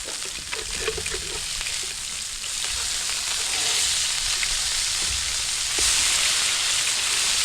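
Burgers cook on a grill at a campout at Kartchner Caverns, giving a continuous close sizzle that grows slightly louder and fuller partway through, with no voices.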